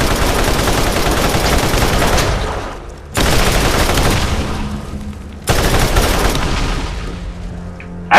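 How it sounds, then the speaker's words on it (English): Sustained rapid automatic gunfire in the video game Borderlands, loud continuous bursts in three long volleys separated by brief pauses. "I can shoot very fast."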